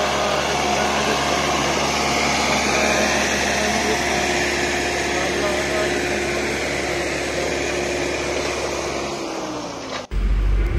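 A Sonalika Tiger 55 tractor runs at a steady, loud drone during a cultivator field demo, holding constant for about nine seconds before cutting off abruptly.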